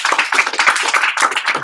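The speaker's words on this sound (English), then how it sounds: "Let's give her a big round of applause for that." Brisk, close clapping from a small group, quick overlapping hand claps over a second and a half, with no voices.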